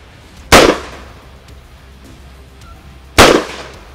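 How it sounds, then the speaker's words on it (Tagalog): Two sharp rifle shots crack at a firing range about two and a half seconds apart, each loud and abrupt with a quick decay. "Commence firing."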